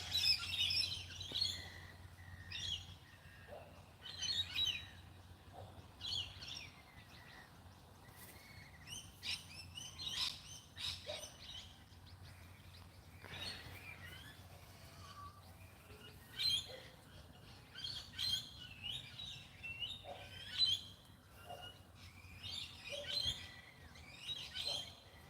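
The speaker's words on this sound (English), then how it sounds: "Listen to those birds." Birds chirp and sing outdoors in short, scattered bursts, some close and bright, others farther off, with quiet gaps between calls over a faint low hum.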